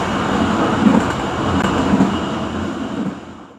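Economy-class Matarmaja train passing Karawang station, heard from inside the carriage as a loud, steady rumble and roar of wheels and rails, close and continuous with no talking.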